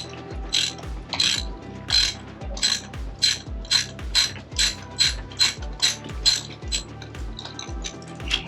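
Socket ratchet clicking rapidly in repeated strokes while loosening and tightening a spark plug on a Lincoln MKX, a close, loud, evenly rhythmic series of metallic ratcheting bursts with no talking.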